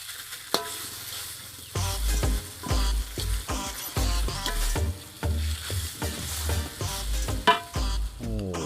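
A spoon stirs and scrapes yellow spice paste frying in a pan for fish pepes, with a continuous sizzle broken by repeated scraping strokes, close and steady with no talking.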